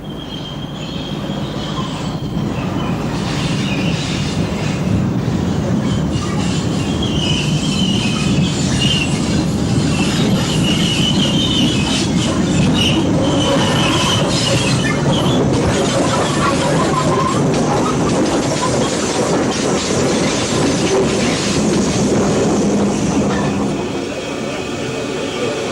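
The steam locomotive Mallard departs and rumbles past loudly and continuously, with rolling wheel clatter and a rushing roar that fades slightly at the end.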